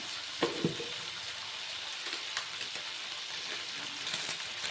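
Peas seasoned with turmeric sizzle steadily in a pan while being stirred, giving a continuous crackling hiss broken by a few soft clinks and scrapes, close and moderately quiet with no talking.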